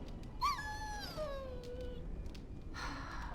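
A dog in Dragon Age: Origins lets out a single high, drawn-out whimper that slides downward and fades over a couple of seconds, faint against a low background hum.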